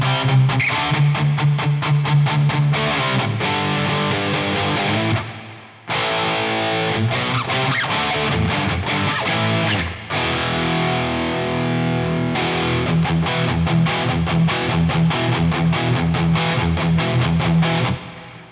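An electric guitar plays through a Wampler Brent Mason ReWired overdrive and distortion pedal, giving a loud, driven tone of rhythmic chords and notes with two short breaks, and no voices.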